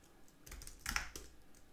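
A handful of quiet keystrokes on a computer keyboard come in a short, soft cluster of clicks, faint and close.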